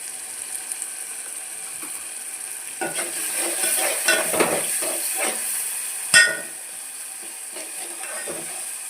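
A spice and chilli-paste mixture for kadhi roasts in a hot pan, a steady close sizzle broken by scraping, ratcheting stir strokes, with one sharp clank near the end.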